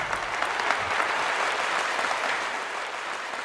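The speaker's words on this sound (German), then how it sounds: "Applaus bitte!" A short, even burst of crowd applause with many hands clapping at once, fairly distant and uniform, fading only slightly toward the end.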